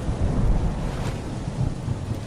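Rain and thunder in a Skibidi Toilet animation: a steady wash of rainfall with a low rumbling roll of thunder underneath, moderately loud and continuous with no talking.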